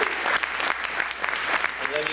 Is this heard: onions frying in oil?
no